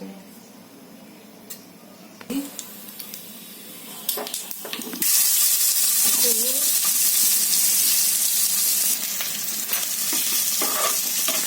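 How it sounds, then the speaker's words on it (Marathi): Mustard seeds hit hot oil while making quick semolina appe, and a broad frying hiss builds from about five seconds, staying loud and steady with faint clinks of utensils before it. "तेल घातलं आता मोहरी घालते"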